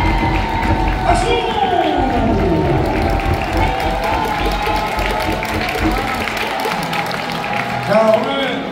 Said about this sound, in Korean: 격려의 응원의 사랑의 박수 다시 한번 크게 보내주세요.